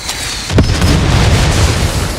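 A loud, heavy cannon blast at an anti-aircraft site in Far Cry 6, one sharp boom followed by a long rumbling roar that stays strong to the end.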